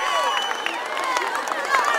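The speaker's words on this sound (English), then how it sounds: "And they get a nice hand by the North Kitsap crowd." Home-side spectators at a North Kitsap high school football game give the cheerleaders a hand, a steady wash of clapping and cheering with crowd murmur throughout.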